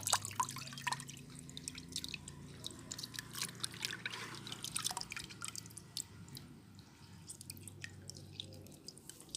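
Liquid fertilizer drips and trickles as it is squeezed out by hand, a quiet, close series of irregular wet patters against faint background noise.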